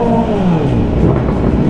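A Kawasaki ZX25R inline-four sportbike engine revs close by, loud and continuous, with its pitch sliding and wavering through a short burst.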